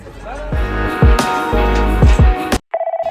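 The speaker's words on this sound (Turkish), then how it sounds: "Telefon çalıyor." A telephone rings loudly at a busy second-hand market in Norway, with rapid repeated ring pulses after bustling crowd noise and overlapping chatter.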